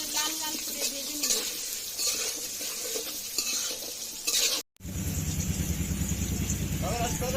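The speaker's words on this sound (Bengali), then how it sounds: "ভালো করে লাল লাল করে ভেজে নেব" Potato pieces sizzle in hot oil with turmeric and salt while a spatula scrapes and stirs them in the pan, steady close frying with a brief cut partway, then louder, denser sizzling.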